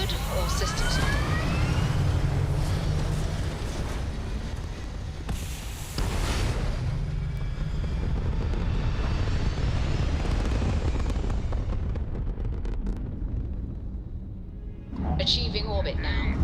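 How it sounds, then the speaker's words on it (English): A spaceship lifts off into space in Starfield with a loud, sustained rumbling roar of engines that carries through most of the stretch before cutting off, while someone talks over it. "Into the space we go. Liftoff looks good."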